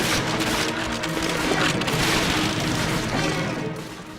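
Dense rapid gunfire mixed with booming explosions from the video game Call of Duty: Finest Hour, a loud chaotic barrage that fades slightly at the end.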